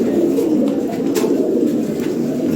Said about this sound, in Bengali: দামি কবুতর, অরিজিনাল ইম্পোর্টেড ব্লাড লাইনের কবুতর